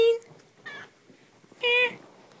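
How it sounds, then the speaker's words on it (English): A cat sitting on a person's lap meows twice, a short close cry followed by a longer, louder one, with soft rustling in the quiet gaps between. "And cat's on my lap."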